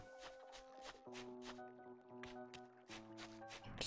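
Footsteps splash through shallow water in a cozy video game, a steady rhythm of soft wet slaps over a gentle looping melody.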